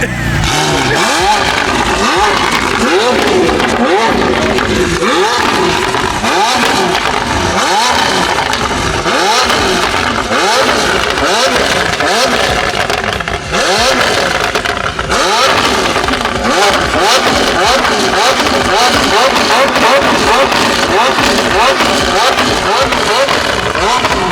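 Loud, aggressive engine revving from a Nissan R35 GT-R in repeated bursts through a new rumbling aftermarket exhaust, with rhythmic throttle blips continuing throughout and voices faintly underneath.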